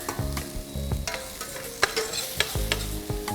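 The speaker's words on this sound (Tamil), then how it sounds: "ஆனியன்ஸை கொஞ்சம் லைட்டாக ஜஸ்ட் ஒரு கிளாஸி டெக்ஸ்சர் வர வரைக்கும் நம்ம குக் பண்ண போகிறோம் லைட்டாக" Onions frying and stirred in a pan for grilled chicken rice, a steady close sizzle broken by repeated scraping, clattering stirs of the spoon against the pan, with no voices.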